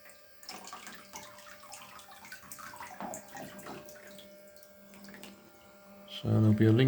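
A small toy water jet boat with a tiny pump splashes and trickles in a bathtub, with scattered water drops and bubbling, and a faint pump whine; a louder burst of gurgling water comes near the end.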